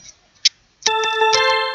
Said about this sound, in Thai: นี่เสียงโอแกนตัวนี้ครับเจ้า